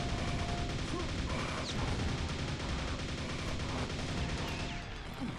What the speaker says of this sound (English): Some good old nail gun action here.